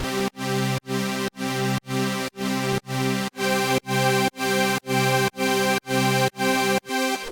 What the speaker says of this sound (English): This is a volume shaper plugin.